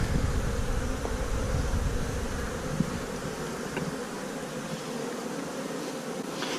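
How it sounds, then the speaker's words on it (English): A continuous close hum of honeybees comes from an opened hive in winter on a warm January day, steady and moderately loud, thinning a little in the lowest tones partway through. "So I think these bees have got a good chance of getting through the winter."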